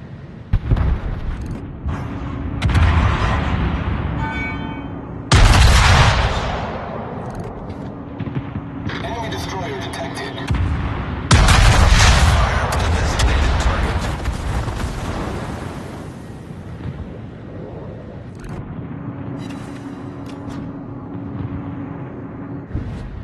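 Naval artillery firing in a sea battle video game: heavy booms and blasts burst out several seconds apart, each trailing into rumbling noise, loud and close.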